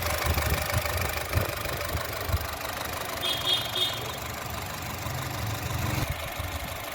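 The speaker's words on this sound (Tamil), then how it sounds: "இன்ஜின் பார்த்தீங்க அப்படின்னா அப்படி ஒரு ஸ்மூத்தாக இருக்குதுங்க." A 2009 Honda City i-VTEC petrol car engine idling, a steady low rumble with an even hum that holds throughout and no voices present.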